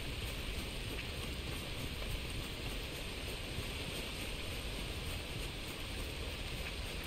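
Steady night rainfall in the video game Red Dead Redemption 2, a dense, even hiss that runs without pause and stays constant in level, with no voices.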